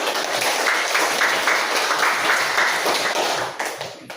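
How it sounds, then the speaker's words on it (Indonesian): A classroom group of children clapping hands together, a dense burst of close applause lasting a few seconds before tapering off at the end. "Nah, tepuk tangan kita."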